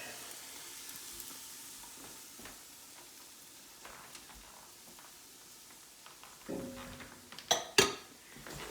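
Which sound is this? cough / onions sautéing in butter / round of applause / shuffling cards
onions sautéing in butter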